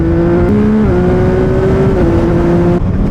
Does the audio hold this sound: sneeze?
no